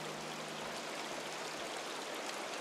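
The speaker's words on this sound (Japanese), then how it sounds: "あら、これは滝か？" A video game waterfall in Eastward gives a steady, even rush of falling water at moderate distance, a constant hiss with no speech over it.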